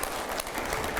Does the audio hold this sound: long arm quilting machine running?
no